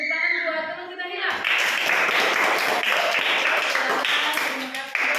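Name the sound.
children applauding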